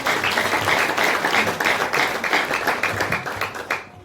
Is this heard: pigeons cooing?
no